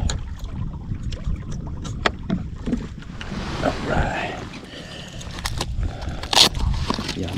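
A bass boat engine drones across open water on Badin Lake, with wind and water noise and occasional clicks and knocks close by.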